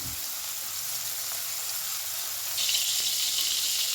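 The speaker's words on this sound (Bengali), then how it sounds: "চিংড়ি মাছ ভাজা তেলের মধ্যেই আমি দিয়ে দিলাম রসুন দিয়ে দিচ্ছি শুকনো লঙ্কা পেঁয়াজ" Garlic, dried chilli and onion frying in leftover prawn oil give a steady, close hiss of sizzling that swells louder and brighter partway through, with no talk.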